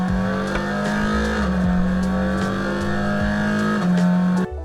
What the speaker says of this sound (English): I have a few engine sounds and I landed on one that I liked.